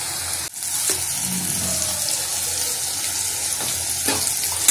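Sliced bitter gourd fries in a pan with salt and turmeric while being stirred, giving a steady, close sizzle broken by occasional scrapes and knocks from the spatula.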